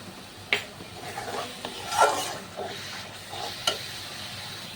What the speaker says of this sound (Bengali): তো সমস্ত উপকরণ আবারও ভালো করে কষিয়ে নিতে হবে